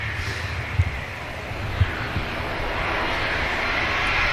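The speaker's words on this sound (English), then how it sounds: "Fairly long rollout from this Ryanair. Just getting airborne now." Ryanair jet lifting off from a runway at Manchester Airport, a distant steady engine roar that swells slightly toward the end, with a couple of soft thumps nearby.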